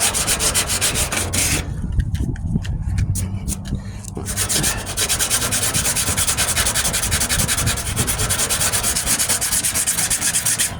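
Someone hand-sands Bondo filler on the wheel arch of a 1998 Ford Ranger. Close, loud, rhythmic rasping strokes run nearly continuously, with a short softer pause partway through and no talking.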